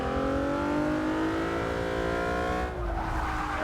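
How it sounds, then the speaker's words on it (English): A loud 1999 Lancer Evo VI GSR engine in Forza 6 revs hard and continuously, pitch climbing steadily through the gears, with a brief dip and tire noise near the end. "Boy, this car loves the revs"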